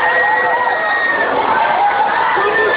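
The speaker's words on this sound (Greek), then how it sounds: "Ακούστε τις απεγνωσμένες κραυγές των καλεσμένων" Guests scream and shout in panic after a building collapse at a gathering, a loud, continuous mass of crowd cries that fills the whole moment.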